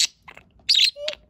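A pet budgie parakeet chirps in close, bright bursts, with a short trill, a longer squeaky run of chirps and a final tweet, heard alone without talk.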